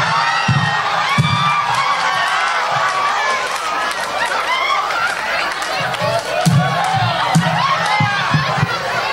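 An audience at a live stand-up comedy show cheers and whoops loudly, a dense and continuous crowd roar with shouts rising throughout, heard up close.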